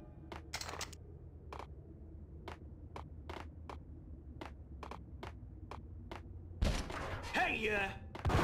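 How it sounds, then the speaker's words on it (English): Gunfire from the Max Payne video game: a dozen or so sharp, evenly spaced distant shots crack over a low humming background, followed by a louder burst of mixed impacts and clatter near the end. "What's shooting at me?"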